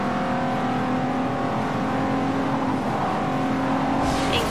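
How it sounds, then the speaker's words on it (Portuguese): A steady, droning car engine in Forza Horizon 2 hums continuously at a constant pitch, with no talking over it. "Vou deixar vocês agora com o som do carro"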